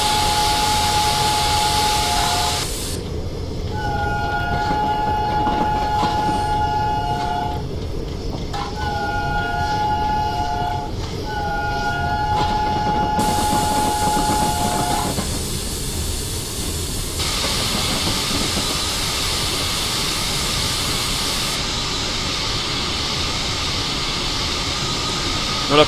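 Flying Scotsman steam locomotive in Train Simulator on the East Coast Main Line between London and Peterborough, with a steady steam hiss and rolling rail noise throughout, plus repeated whistle-like tones in bursts.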